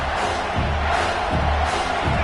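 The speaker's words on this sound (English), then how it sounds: "Decibels rising as the crowd gets behind this defense on 3rd down." Football stadium crowd roaring in support of the defense on third down, a loud, dense wall of cheering and yelling that swells in waves across the moment.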